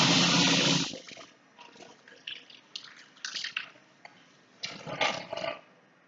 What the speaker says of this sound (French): Attendez, je vais me laver les mains.